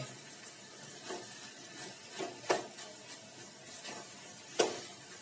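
A spoon scrapes and stirs poha (flattened rice) with potatoes in a pan, giving soft irregular scrapes with a couple of sharper clinks against the metal, close and fairly quiet.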